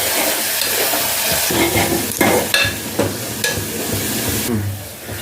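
Onions and a ground paste of coriander seeds, cumin, poppy seeds and dried red chillies frying in a pan for poppy seed curry, with a close, steady sizzle broken by occasional stirring scrapes and clatters.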